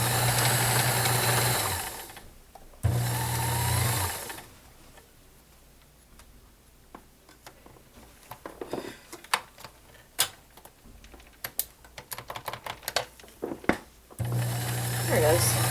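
A vintage 1970s Kenmore model 1914 convertible sewing machine runs in loud bursts of motor whir at the start and end, with quieter ticking and clicking stitches in between, and a person speaks nearby.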